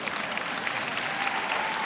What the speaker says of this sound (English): somebody ought to clap on that.